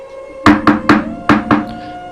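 Five sharp, loud knocks on window glass come in a quick uneven rhythm close by, each with a short ringing tail, and no talk.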